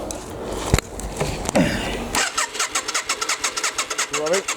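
A trike engine cranks without starting: rough noise and a voice come first, then a close, loud starter whirrs in a fast, even chugging rhythm that never catches.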